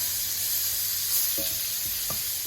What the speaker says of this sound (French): Vous mettez maintenant les framboises dans la poêle et vous allez les faire revenir quelques secondes,